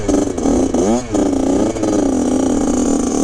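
A mini SuperMoto engine revs hard with a slipping clutch, its drone sweeping up and down in pitch, loud and close and steady throughout.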